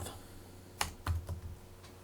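A few quick key presses on a computer keyboard, faint and close, with soft clicks spaced unevenly over a quiet background.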